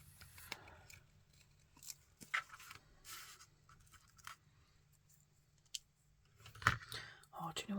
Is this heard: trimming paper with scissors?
yes